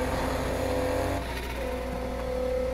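A loud car engine roars steadily with a sustained droning tone that shifts pitch midway, close and continuous with no talk.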